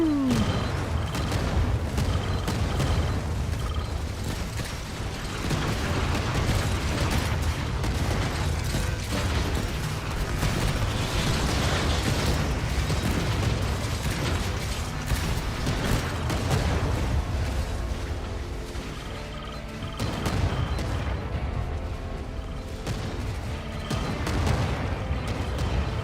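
Rocket launchers fire and explode during a battle in the video game Alien Dawn. A relentless barrage of booms and rattling, mechanical clatter runs continuously and loudly, with only slight dips in intensity.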